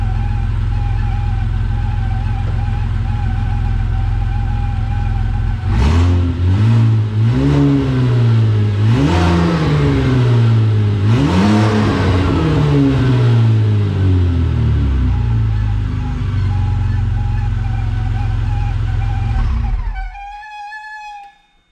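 A Vauxhall VXR engine idles loudly and close by with a steady high whine from a noisy power steering pump. It revs up and down several times in swooping rises, settles back to idle and then shuts off abruptly.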